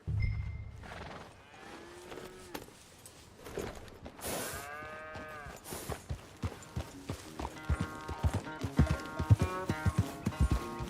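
Horse hooves clip-clop during riding in Red Dead Redemption 2, rhythmic strikes growing quicker and louder toward the end, with a horse whinny and other farm animal calls in the mix.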